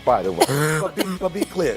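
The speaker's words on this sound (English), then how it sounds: "It's a cough" A brief cough on a studio sports-debate show, mixed in with a man's continuous speech and hard to separate from the talking.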